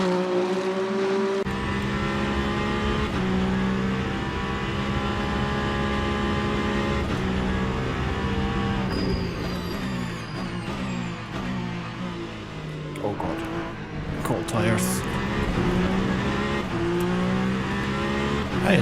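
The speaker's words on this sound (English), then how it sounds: "this car also sounds nice." A race car engine in the Le Mans Ultimate racing game revs and howls through gear changes, loud and close, with rising and falling pitch sweeps and brief tire noise, and no talk.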